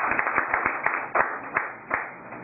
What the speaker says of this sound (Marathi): टाळ्या वाजवा सगळे